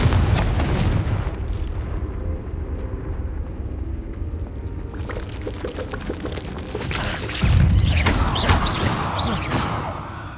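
A Confringo fire spell goes off in Hogwarts Legacy with a loud, sustained burst and roar, followed by a rumbling swell of crackling debris and a second surge midway, with no voices.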